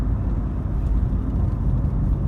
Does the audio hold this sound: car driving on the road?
yes